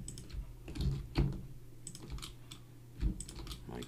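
Close, moderate clicks come from a computer keyboard and mouse during work in Blender. The irregular taps and clicks fall in small clusters, with no speech.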